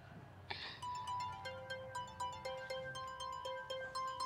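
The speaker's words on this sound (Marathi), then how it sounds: "फोन." A phone rings with a melodic electronic ringtone, a repeating pattern of bright tones after a short thud, moderately quiet and heard alone.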